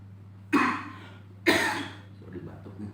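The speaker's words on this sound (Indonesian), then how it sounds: "Sorry batuknya." Two sharp coughs about a second apart from a man giving a religious talk, close to the microphone over a steady low hum, with faint murmuring after.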